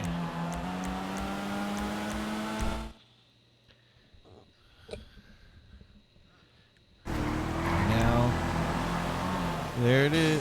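A fast sport car, a Fukaru Sport GT in a GTA race, cruises with a steady, rising engine drone that drops away into near-silence for a few seconds and then returns loud and close.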